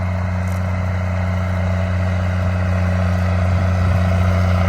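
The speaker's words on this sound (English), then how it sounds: "Man, I love hearing that straight pipe Cummins." Steady, loud low rumble of a straight-piped Cummins diesel truck engine running continuously near a soybean harvest field, with no talk over it.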